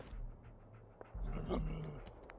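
A dog pants in Fallout 4, quick, soft rhythmic breaths close by with a few faint whimpering sounds over low game ambience.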